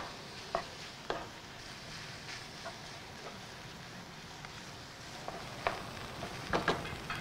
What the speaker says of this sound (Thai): เราจะรวนจนเนื้อของเขาเนี่ยนะครับ แห้งๆแล้วก็ไขมันออกมานะครับ